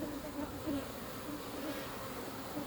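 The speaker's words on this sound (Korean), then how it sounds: "꿀벌들은 정말 대단한 능력을 가지고 있죠." Honeybees buzzing steadily around urban rooftop beehives in Seoul, a continuous close drone with a faint shifting hum and no voices.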